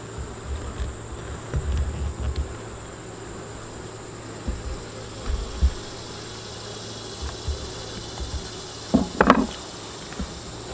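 Honeybees in an open beehive with frames full of honey, a faint steady buzz close by, with soft bumps and knocks from handling the hive and no talking.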